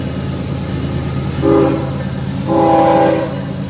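A K5HL horn on a freight locomotive pulling a double-stack intermodal train gives two loud chord blasts, a short one then a longer one, over the steady rumble of the passing train.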